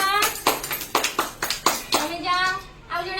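Children in a classroom clapping hands in a ragged, uneven burst of several sharp claps, with an adult's voice speaking over and between them.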